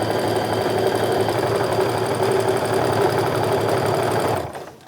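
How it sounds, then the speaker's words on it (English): Sewing machine stitching the corners of a fabric tote bag, a loud steady rapid mechanical whir running continuously up close before stopping abruptly near the end. "at least my corners are sewn by machine"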